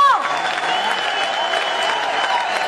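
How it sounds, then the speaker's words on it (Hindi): Large audience applauding to welcome a speaker at a corporate event, a continuous even roar of clapping with a faint tone sweeping down briefly at the start. "ये तालियों की गड़गड़ाहट"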